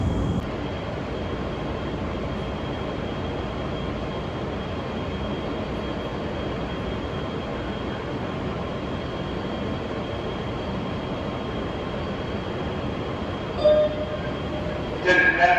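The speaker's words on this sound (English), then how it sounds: "This is Roosevelt Avenue, bound E express train." An NYC subway E express train runs steadily at Roosevelt Avenue in Queens, a continuous loud rumble of wheels and car noise with a faint squeal, and brief clanks near the end.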